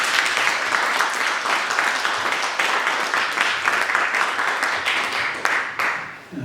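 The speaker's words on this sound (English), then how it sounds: "And one more time, round of applause for this" Sustained applause from a film festival Q&A audience in New York, a dense wash of many hands clapping that holds steady for several seconds before thinning out at the end.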